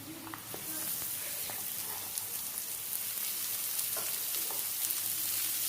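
Thinly grated cabbage fries with garlic in a pan for egg cabbage fried rice, giving a soft, steady sizzle with occasional light stirring clicks.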